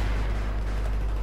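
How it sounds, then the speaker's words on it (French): Explosions rumble in the Battlefield 3 war video game, a dense, continuous low roar of blasts and booming with no distinct gaps, loud and heavy, with no talk. "Regardez-moi les explosions, quoi, c'est la guerre."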